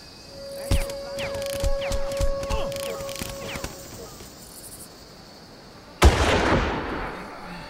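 Several sharp gunshots ring out in the Far Cry video game over a steady insect-like chirping ambience, fired in a quick irregular run. After a pause, one louder blast follows.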